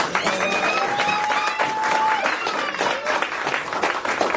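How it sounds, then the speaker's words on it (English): Loud, sustained applause and cheering from an audience at a talk on Pan-Africanism, with sharp close claps, whoops and crowd voices riding over the clapping throughout. "Y'all gonna have to clap on this one too"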